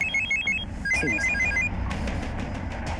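A telephone bell rings in rapid trilling bursts indoors at a police station, repeating steadily over a low background hum with no talk.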